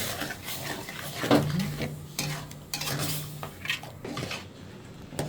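A spoon scrapes and stirs semolina halwa with milk in a pan, giving close, repeated scraping and wet, squishy sounds at an uneven pace, with no talk.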